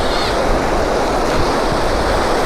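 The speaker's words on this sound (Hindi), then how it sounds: "मेरे पीछे आप देखें कितनी ज़बरदस्त से ना वो लहरें आ रही हैं" Ocean waves roll onto Venice Beach, California, in a loud, continuous wash of surf with some wind noise.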